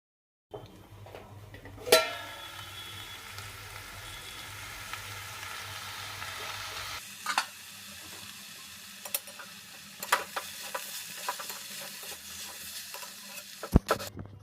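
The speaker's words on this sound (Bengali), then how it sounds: "দেখো বেশ খানিক্ষণ নাড়াচাড়া হলো ঢাকা দিয়ে দিয়ে একইভাবে" Radish greens being stirred in a pan for a vegetarian chorchori, with a soft sizzle and repeated scraping knocks and clacks of a spatula against the pan, some sharp and close, with quieter stretches between.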